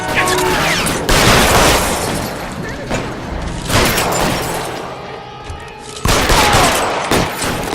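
Gunfire in the video game L.A. Noire, loud bursts of shots in several volleys with booming impacts, mixed with game voices and effects.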